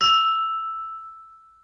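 A single bright, pitch-corrected glass ding rings out with a clean, steady pitch tuned to a musical note, then sustains and slowly fades over more than a second.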